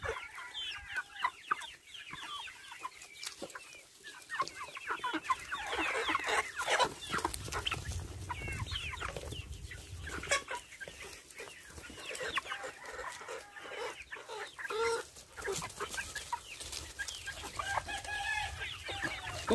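Maturing chickens in a chicken house cluck continuously, with roosters crowing now and then through a busy, steady chorus.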